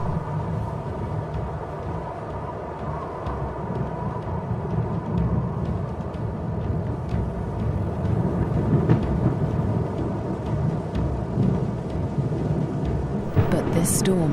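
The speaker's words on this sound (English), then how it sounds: "A storm approaches." Thunderstorm building over dry African grassland, with continuous low rolling thunder and rumble that swells and stays loud throughout, and a sharper crack near the end.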